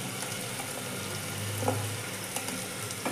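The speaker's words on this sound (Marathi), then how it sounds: "हे सर्व घालून आपण भाजून घेऊया." Dry spices including turmeric, red chilli powder and cumin powder roasting in a frying pan for chole, with a steady soft sizzle and occasional stirring scrapes, no voices.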